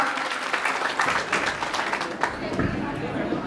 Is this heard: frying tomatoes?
no